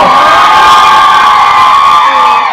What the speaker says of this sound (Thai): ใครอยากไปชิมของอร่อยกับเชฟป้อมส่งเสียงมาหน่อยเร็ว